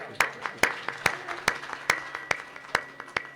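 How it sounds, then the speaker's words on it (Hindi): Scattered, rhythmic clapping at a Shrimad Bhagavat Katha religious discourse, about eight sharp claps at a steady pace, close and distinct, with faint murmuring voices underneath. "ताली बजाओ।"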